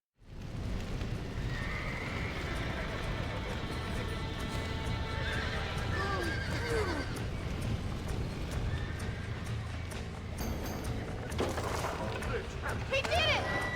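Horses in the Red Dead Redemption video game neigh and whinny repeatedly over clip-clopping hooves and background game noise, with voices shouting in the scene.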